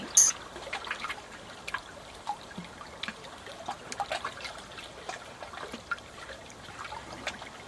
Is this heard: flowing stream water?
yes